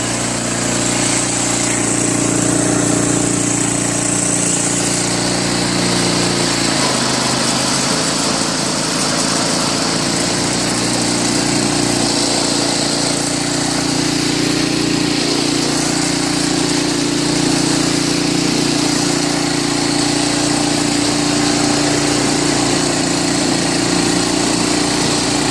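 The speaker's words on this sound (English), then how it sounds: "So this one took a few pulls, but once I put some gas in there, took off the fuel shut off," Small gasoline snowblower engine running after a cold start following summer storage: a loud, steady buzzing drone with a slight shift in pitch early on, continuous and close for the whole stretch, no speech.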